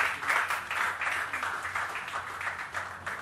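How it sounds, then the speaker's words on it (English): Sustained audience applause for Asian Games athletes at a felicitation event, a steady, moderately loud wash of many hands clapping that swells and ebbs in waves. "Big round of applause."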